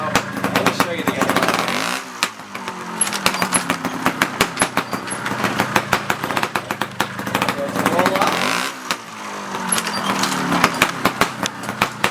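A trials motorcycle is ridden with rolling and clutch work, its engine blipping and revving in short uneven bursts, close by, with two deeper surges and a crackling, popping idle in between.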